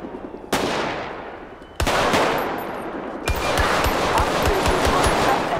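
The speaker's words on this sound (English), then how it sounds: "Shots fired by the police and at the police" Loud gunfire from a police shootout in the video game GTA V with the LSPDFR mod: three sharp blasts open into rapid bursts of automatic fire, with echoing tails ringing on between the shots.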